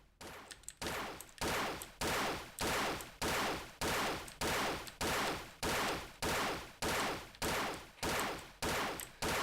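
A minigun fires in an indie itch.io video game, producing loud, evenly spaced bursts of gunfire about twice a second, each burst trailing off quickly before the next.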